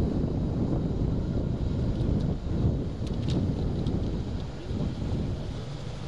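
Strong wind buffets the microphone on a golf course, a steady low roar and rumble throughout with brief gust swells, no voices.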